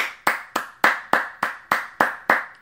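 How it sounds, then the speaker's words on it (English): Rhythmic, evenly spaced claps ring out at a church-style gathering, about nine sharp, reverberant beats in a steady unison pattern, loud and close with no talk over them. "Let's give her a clap."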